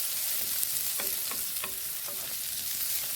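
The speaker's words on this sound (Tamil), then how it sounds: "இந்த ஆயிலே வந்து பார்த்திங்கன்னா நல்லா வதக்கி விடுங்க ஒரு அஞ்சுலேருந்து பத்து நிமிஷம் வரைக்கும் நல்லா வதக்கி விடணும்" Chopped pirandai (adamant creeper) for chutney sautés in oil, giving a steady hiss of frying, broken by several quick clinks and scrapes of a spoon stirring against the pan.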